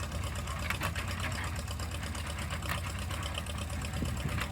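An old hay baler runs with a steady mechanical clatter, a dense rhythmic chugging that never lets up.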